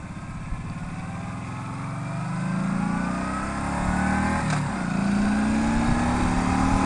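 A Kawasaki Vaquero motorcycle accelerating on a night ride, its engine note climbing steadily in pitch as it pulls hard, with a brief shift and a continuous rushing wind roar.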